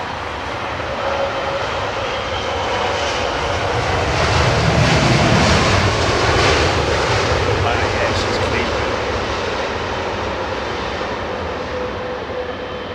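A brand new El Al Boeing 787-9 jet arrives at London Heathrow runway 27R, its engines a broad steady roar that swells to a peak near the middle and then holds loud and close.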